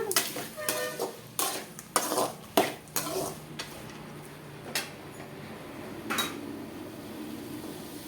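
A spoon scrapes and clinks against a pan while mango pachadi is stirred, giving sharp irregular metallic knocks that thin out into quieter stirring.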